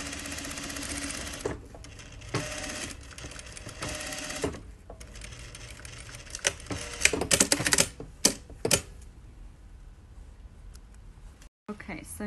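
Sewing machine stitching a finished edge seam on the front of a Russian shirt, running in rapid bursts separated by pauses, close and fairly quiet, with a voice talking at times.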